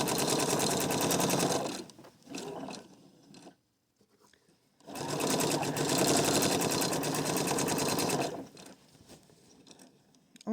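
A sewing machine stitches the underarm seam of a T-tunic in two steady, rapid bursts separated by a brief quiet pause, close and clear with no talking.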